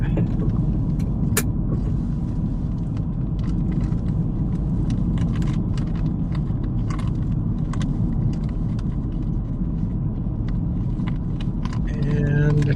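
A car drives along with a steady low engine and road rumble inside the cabin, occasional light rattles and clicks over the top, constant and close throughout.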